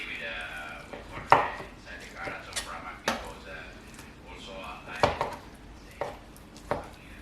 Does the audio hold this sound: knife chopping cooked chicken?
yes